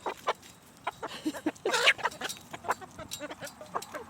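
Hens cluck in short, scattered bursts at close range, a busy flurry of clucks and squawks with a louder cluster in the middle.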